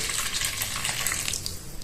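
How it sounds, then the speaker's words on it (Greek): Water poured into a bowl of sourdough starter, a close, steady splashing gush that runs continuously and alone. "Θα προσθέσουμε 400 γραμμάρια νερό"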